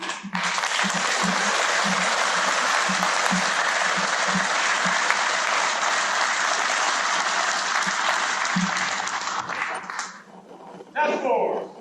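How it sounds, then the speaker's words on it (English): Sustained crowd applause for US Army engineers at a medal ceremony, loud and steady for about ten seconds, then fading, followed by a brief shout. "everybody give yourselves a round of applause."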